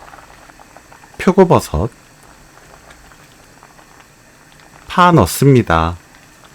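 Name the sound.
broth boiling in a pot for potato dish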